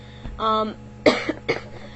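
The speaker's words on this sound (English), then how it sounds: "I'm also sick, so sorry if I'm like coughing a lot in this video" A few short, harsh coughs in quick succession, close by, after a brief throat-clearing sound.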